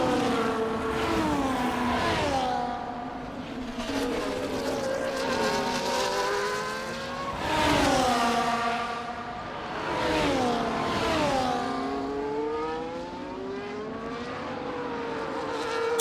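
Can-Am race cars lapping at a Canadian circuit, several engines howling and rising through gears with repeated pitch swoops as cars pass close by, loud and continuous with no talk.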